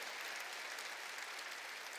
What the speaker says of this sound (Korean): 박수로 하나님께 영광 돌리세요